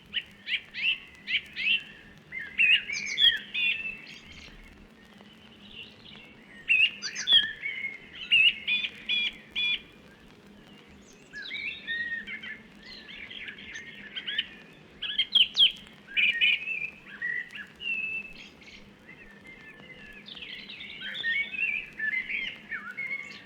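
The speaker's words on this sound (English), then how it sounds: "Now blackbirds, thrushes and robins dominate the woodland scene." Blackbirds, thrushes and robins singing in March woodland, bursts of clear chirps and melodic phrases repeating across the span, moderately close over a quiet background.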